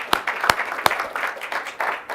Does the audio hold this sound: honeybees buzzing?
no